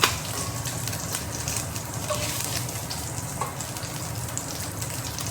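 Oil sizzles and crackles steadily in a pan while feijoada is cooking, a dense continuous hiss heard up close with a few faint clinks and no talking.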